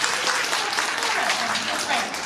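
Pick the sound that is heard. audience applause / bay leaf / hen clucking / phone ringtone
audience applause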